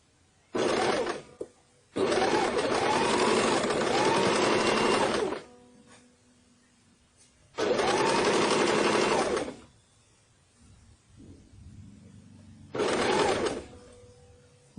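Electric sewing machine stitching a double katori blouse, running in four separate loud bursts of rapid needle clatter with quiet pauses between them.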